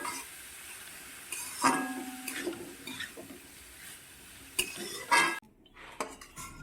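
Stirring food in a kadai while making fried rice, with metal spatula scrapes and clanks against the pan over a faint sizzle, irregular strokes heard close up, no talking.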